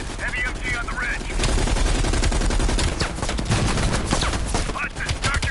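Heavy machine gun fire in Call of Duty Black Ops Cold War: loud, dense bursts of rapid gunshots fill the whole stretch with little pause, up close and dominant, with speech faintly mixed in.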